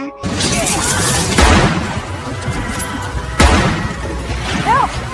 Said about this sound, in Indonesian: Pada suatu malam, rumah Bill dan Frank tiba-tiba diserang oleh para bandit yang berniat merampok daerah tersebut. Saat itu, Bill sempat terkena tembakan